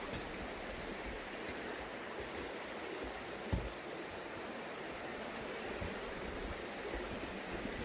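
Steady rushing of a creek beside a trail at Natural Tunnel State Park, continuous and fairly close, with no voices.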